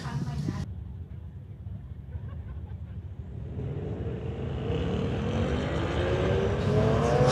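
A 2023 Mustang and a 2008 BMW 335 launch side by side at a street-legal drag race, engines roaring and building in pitch as they pull away, loud and sustained over crowd noise.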